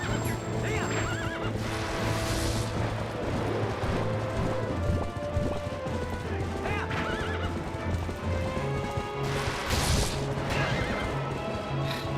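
Epona, the horse in the video game Zelda: Twilight Princess, whinnies loudly and gallops with rapid hoof clip-clops, backed by game music and loud in-game effects.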